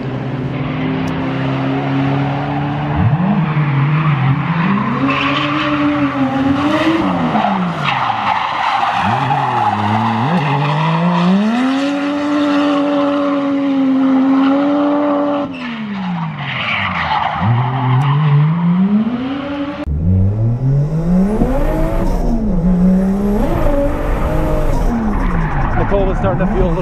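A JZX100 Toyota Cresta drifting at Ebisu's Minami Jump course gives sustained, wavering tire squeal and engine roar, loud and close, rising and falling through long slides while people talk over it.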